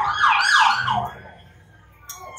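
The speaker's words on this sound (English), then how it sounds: "Why do I hear the police siren?" A siren wails in a children's church skit, loud and close with rising and falling sweeps for about a second before cutting off into quiet.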